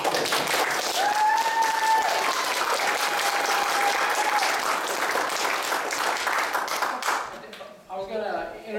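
Audience applause welcoming Dr. Jeff Meldrum at a Q&A event in Comins, a dense, steady crowd clapping that fades near the end, with some talk and voices rising under and after it.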